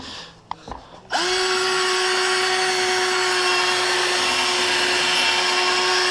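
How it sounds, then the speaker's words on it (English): A power drill fitted with a buffing attachment polishes an aluminum wheel, spinning up after a couple of brief knocks into a loud, steady whine and hum that holds without pause to the end. "That means it's actually buffing and polishing the aluminum."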